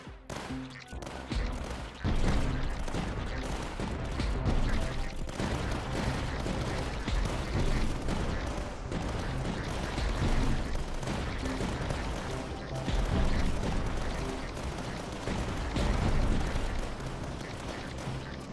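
Heavy weapon fire from the Reaper Cannon in a tower defense game, a steady barrage of booming shots and blasts layered over each other throughout, fairly faint, with no talk.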